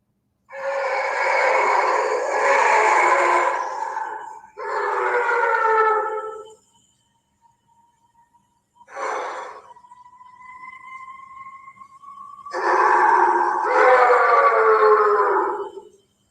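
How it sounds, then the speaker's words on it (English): Several animals howl together at night in long overlapping wavering calls, with a pause and a single thin drawn-out howl before the chorus swells again, loud and sustained. "You heard that that one howl in the back."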